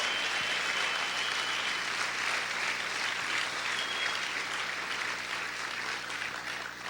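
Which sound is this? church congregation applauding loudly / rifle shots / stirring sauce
church congregation applauding loudly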